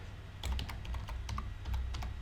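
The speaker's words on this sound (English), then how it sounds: "I'm typing everything wrong." Close-up clatter of keys being struck on a computer keyboard, irregular taps arriving in short runs over a steady low hum, with nobody speaking.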